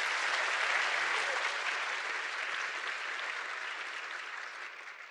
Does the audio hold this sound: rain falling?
no